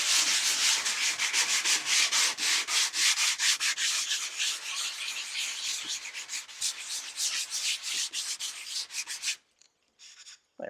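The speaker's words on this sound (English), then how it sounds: "So let me get my sanding block here." Hand sanding of wood with a sanding block: quick rhythmic back-and-forth rasping strokes, close and fairly loud, running steadily for about nine seconds before stopping into near quiet.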